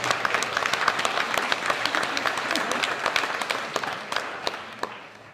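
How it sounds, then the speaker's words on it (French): A conference audience applauds the speaker, brisk close clapping with distinct individual claps standing out, fairly loud and steady before easing off toward the end, with some voices mixed in. "vous pouvez l'applaudir encore une fois"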